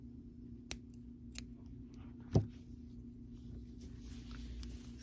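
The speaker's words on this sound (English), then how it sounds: "I'm going to get my trusty scissors here." Trusty scissors snip crochet yarn to finish an ear warmer, with a single sharp cut standing out among a few faint clicks in a quiet room.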